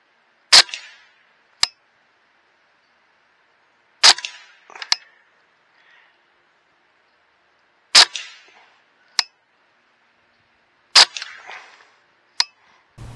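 Suppressed rifle shots through a Silencerco Warlock II suppressor, five sharp cracks spaced a few seconds apart, each with a short fading tail, loud against a silent background.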